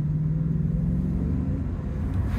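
A 2016 Ford Mustang 5.0 GT with a manual gearbox rumbles steadily from inside while cruising, a deep, continuous V8 drone at even volume with no talking.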